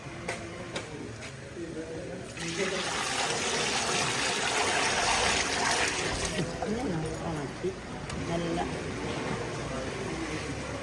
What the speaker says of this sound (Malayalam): ഇപ്പൊ നമ്മള് ഇതിനകത്ത് വിനാഗിരിയാണ് വിനാഗിരി ഒഴിക്കാൻ